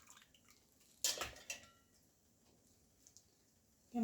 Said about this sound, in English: get a different bowl to put it in